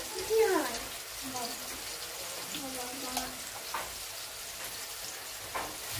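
Spice paste frying in a pan for a fish-head curry, with a soft sizzle and hiss and occasional stirring scrapes, a voice talking over it.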